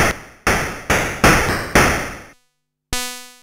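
Noise-waveform bass on an Elektron Analog Rytm drum machine: five loud, hissing noise bursts in a steady pulse, each decaying quickly, then a short silence and a pitched square-wave tone entering at the end.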